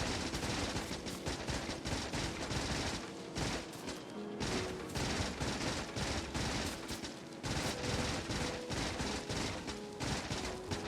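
Machine gun in the game Factorio fires long rapid bursts into trees, a loud, close, continuous rattle of gunfire with brief pauses between strings of shots.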